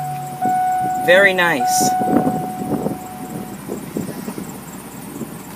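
A 2007 Chevrolet Express Dutchmen motorhome engine cranking with a whirring starter, catching, then settling into a steady idle while a person speaks briefly.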